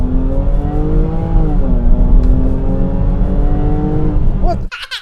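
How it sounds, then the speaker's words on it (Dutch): A Jaguar F-Pace SUV's 380 hp supercharged V6 engine pulls hard and loud up close, its pitch climbing and dipping as it accelerates, before cutting off sharply at the end. "je hebt een supercharged V6, dus die klinkt al iets hoger"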